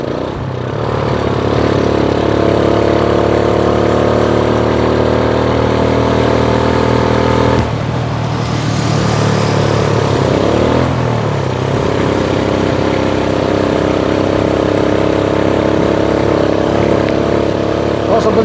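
A motorcycle engine revs at high RPM on a night ride with a near-empty fuel tank, a loud sustained drone with a dip and a shifting pitch partway through, steady and close.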